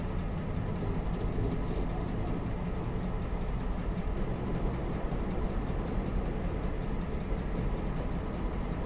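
A train passing in Train Simulator Classic, an Alaska diesel route, with a steady loud rumble and rattling wheels that run unbroken with no voices.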